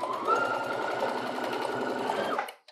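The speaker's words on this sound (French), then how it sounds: "je continue de coudre" A sewing machine stitches a dart through pattern-making fabric in one steady, fast whirring run of needle strokes, close and clear, then stops abruptly near the end.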